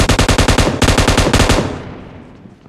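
Rapid automatic gunfire from the battle royale game PUBG on the Erangel map rattles out in two loud close bursts of evenly spaced shots, then fades into a decaying echo.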